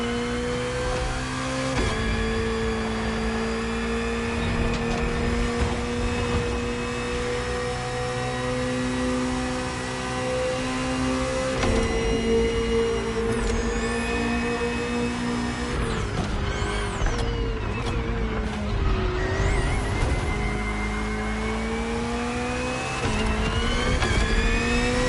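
A BMW M Hybrid V8 endurance race car in The Crew Motorfest racing game roars continuously, its pitch climbing and dropping through repeated gear shifts, loud and sustained with no talking.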